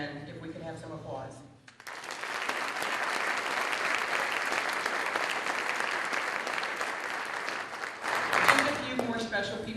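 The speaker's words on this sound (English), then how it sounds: "if we could have some applause" A police academy graduation audience breaks into sustained, dense applause that builds to a peak near the end. A voice speaks briefly before it begins.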